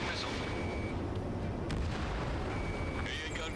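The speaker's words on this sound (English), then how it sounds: "Strider 3 launching missile." Missile launch from a fighter jet in the Ace Combat 7 video game, a dense continuous roar and rumble with a sharp blast midway and another burst near the end, loud throughout.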